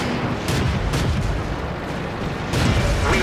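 A tank cannon booms in the World of Tanks game, aimed at an enemy through a telephone pole from a Churchill I; a dense, loud roar of gunfire and explosions with sharper blasts near the start and end.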